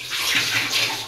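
Hot water pours and drains steadily from boiled cabbage in a home kitchen, a loud, close, continuous splashing rush with no pauses.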